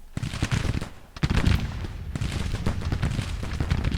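Civil War rifles crackle in a dense long-range volley in Grand Tactician, irregular overlapping shots in bursts with a short lull before the firing swells again, loud and continuous.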